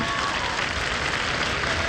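A tennis crowd at the 2001 Queen's Club final applauds, a dense, steady wash of clapping heard close and loud, with a commentator's voice over it.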